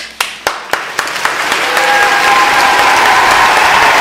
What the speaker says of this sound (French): Je mérite des applaudissements.